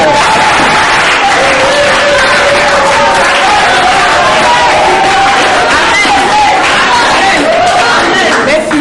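A church congregation applauds and cheers, a dense, loud, steady wash of clapping lasting throughout, with voices mixed in.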